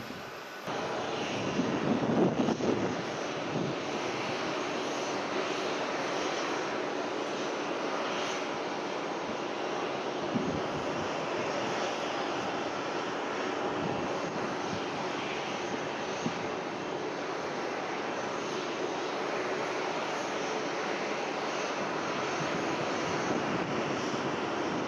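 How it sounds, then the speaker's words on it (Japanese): An ANA airliner departs from Miyako Airport, a steady, distant engine roar with wind-like hiss that holds evenly for the whole stretch after a brief louder swell near the start. "ということで飛行機が行ってしまいましたね"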